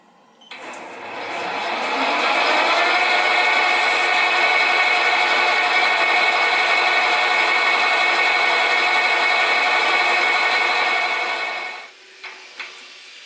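A lathe or drill runs steadily while boring and tapping a hole for the valve rod of a model Stuart 10V steam engine; a continuous, fairly loud whirring drone starts up, holds for about ten seconds and cuts off, with a few faint clicks after.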